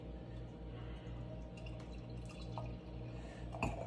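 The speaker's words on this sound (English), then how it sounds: "Pouring two glasses, once again" Pumpkin ale pours from a bottle into two glasses, a soft trickle and splash close up over a low steady hum, with a few brighter drips near the end.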